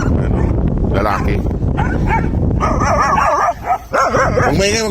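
Several dogs, including a mother dog and three brown siblings, barking, yipping and whimpering close by in an excited, overlapping chorus, with a person talking over them.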